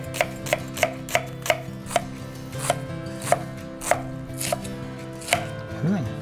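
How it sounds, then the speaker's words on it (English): Garlic is chopped on a cutting board for lumpiang Shanghai filling, a run of about a dozen crisp knife knocks, evenly paced at first and then looser, close and clear over faint room tone with no talking. "Let's chop some garlic."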